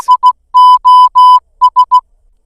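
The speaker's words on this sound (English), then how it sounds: "In Morse code, save our soul or save our ship, SOS sounds like this" Morse code tones spelling SOS: three short beeps, three long beeps, then three short beeps, clear and steady with no other sound.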